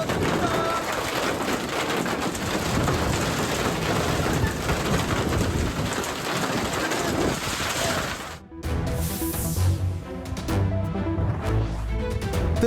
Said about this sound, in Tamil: சென்னையில் பல்வேறு பகுதிகளிலும் மழை பெய்து வரும் நிலையில் குன்றத்தூரில் பலத்த காற்று, ஆவடியில் ஆலங்கட்டி மழை பெய்ததால் தணிந்த வெப்பம்.